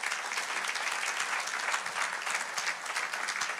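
A church congregation applauds steadily during a worship service, a dense, continuous wash of clapping from many hands that holds at an even level throughout with no voices rising above it.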